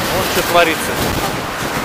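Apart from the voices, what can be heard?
strong wind and ocean storm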